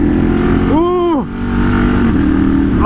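A custom café-style Ducati 900 SS motorcycle blips its throttle once, the engine note swooping up and falling back, over a loud steady idle and wind rush.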